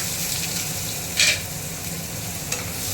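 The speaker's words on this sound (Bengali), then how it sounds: "কড়াইতে কালো জিরে ফোড়ন দিলাম, কালো পেঁয়াজটা ফোড়ন দিয়ে দিলাম" Nigella seeds and onion seeds tempering in hot oil in a wok: a continuous close sizzle with a sharp spattering crackle burst partway through and another smaller pop later, no voices.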